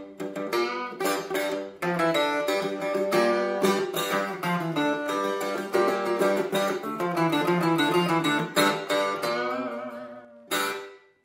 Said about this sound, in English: One instrument that's quite interesting and helps evoke this kind of spiritual psychedelic feel is the bouzouki